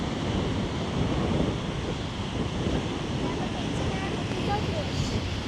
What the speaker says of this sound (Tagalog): masyadong malakas ang alon ulit